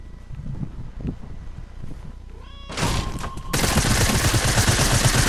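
Fortnite Prop Hunt gunfire, a quiet stretch with small game sounds and bursts, then loud dense rapid shooting takes over near the end, sustained and harsh.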